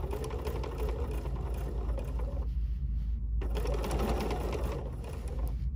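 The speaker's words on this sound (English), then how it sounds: "So I'm stitching in the ditch" Sewing machine stitching in the ditch on a quilted fabric basket, a steady close mechanical whir with a rapid needle rhythm, pausing briefly midway before running again.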